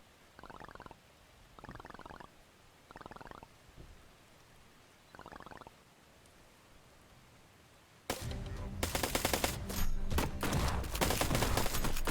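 Turret fire in the video game Black Skylands: a barrage of rapid, loud gunfire bursts erupts dense and continuous for the last few seconds, preceded by several short, muffled rumbling bursts spaced apart.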